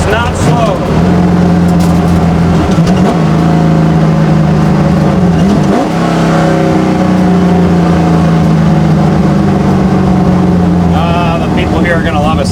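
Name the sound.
1966 Ford Mustang race car engine revving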